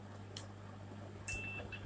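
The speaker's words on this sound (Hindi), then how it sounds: "ये मीटर बजर मोड पे है" A digital multimeter in continuity buzzer mode tests a MOSFET on an LED TV board; a faint, steady electronic beep comes in about two-thirds through and holds to the end against quiet room hiss.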